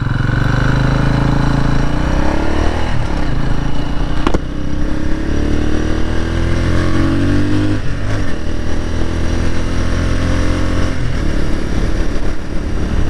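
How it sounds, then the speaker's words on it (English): A 2019 Genuine G400C cafe racer motorcycle engine runs loud and close, revving and chugging unevenly, then briefly cutting out as it stalls before rumbling on. "And there I am stalling this bike"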